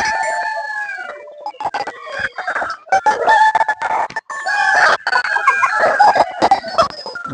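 Chickens in a coop on a farm in Chí Linh, Hải Dương, where chicks are being brooded: a rooster crows loudly and close while hens cluck steadily throughout, with rapid overlapping calls.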